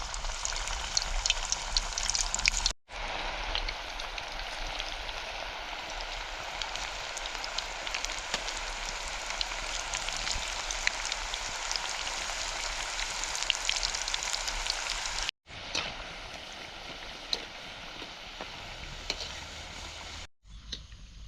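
Corn fritters (bhaji) frying in hot oil give a steady, dense sizzle and crackle, close and continuous, with a couple of brief cuts where the sound drops out.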